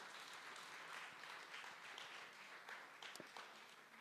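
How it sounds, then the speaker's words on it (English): Audience applause at a women's seminar, a steady wash of many hands clapping at moderate distance, continuous and fairly even for the whole span with no talk over it. "Can we give a round of applause again"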